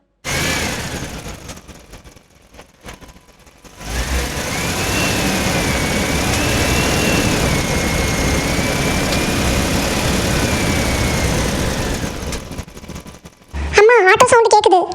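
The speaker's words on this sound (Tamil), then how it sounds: "அம்மா ஆட்டோ சவுண்ட் கேட்குது. ஆட்டோ அண்ணா வந்துட்டாங்கன்னு நினைக்கிறேன்." An auto rickshaw engine drones steadily nearby for several seconds, idling and revving slightly as it pulls up, with a voice chiming in at the end.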